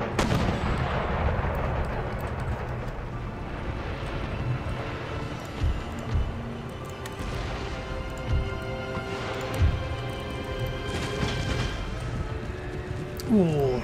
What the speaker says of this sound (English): All of my artillery fire as much quicklime as humanly possible.